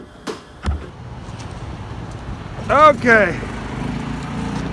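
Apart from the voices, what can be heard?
EZGO golf cart with 13hp Predator engine pulling dumpster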